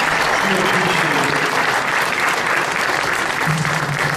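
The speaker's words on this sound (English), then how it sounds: "please give us a big round of applause for our students who are here moderating this fantastic debate" An audience gives a big round of applause for student moderators at a congressional candidates' debate forum, with dense, sustained clapping filling the room throughout and faint voices beneath.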